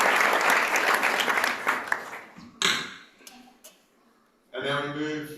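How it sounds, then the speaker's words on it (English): A round of applause for a female champion at an awards watch party, loud clapping for about two seconds that tapers into a few scattered claps, then a voice speaks. "Let's get one more round of applause, ladies and gentlemen, for our 2026 Year in Australia female champion,"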